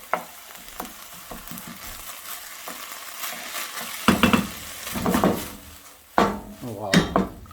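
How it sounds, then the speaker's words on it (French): Meat frying in a pan as paprika is stirred in, a low sizzle under quick scraping and clinking of a utensil against the pan, growing busier toward the end. "On va mélanger ça rapidement."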